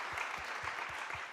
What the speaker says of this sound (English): I want to already give a big round of applause to you for this.